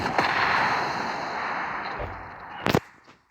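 Gunfire in the mobile battle game PUBG Mobile, heavy weapons mode: a dull boom is followed by a single sharp loud crack near the end, over faint game ambience.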